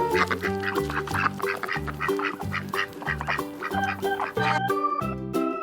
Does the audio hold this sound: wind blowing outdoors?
no